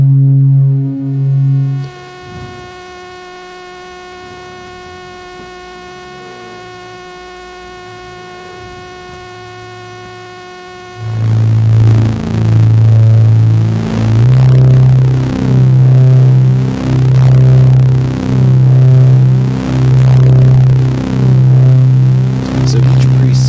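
A Hertz Donut synthesizer steps through presets, first a sustained buzzy tone with a stacked harmonic drone, then a pause with a lower held note before loud, bright chiptune arpeggio pulses repeat in a fast steady rhythm.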